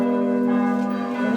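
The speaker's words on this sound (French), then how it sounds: "la grosse cloche, c'est une cloche des temples protestants" A large bell of a Protestant church sounds with one sustained, rich ringing tone full of steady overtones, loud and close, without any voices.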